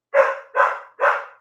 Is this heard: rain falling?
no